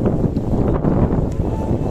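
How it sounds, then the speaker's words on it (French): Strong wind buffets the microphone on an open mountain bike route between Xeraco and Calp, a steady, close low roar without talk. "Ah, il y a du bon vent."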